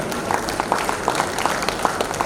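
A room of schoolchildren in an abacus class claps, a loose, uneven patter of hands with scattered sharper claps over a steady background murmur.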